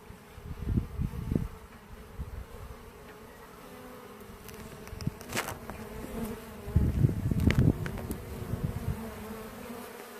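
Honeybees buzzing close by around a hive in autumn, a low droning hum that swells and fades as insects pass near, continuous throughout.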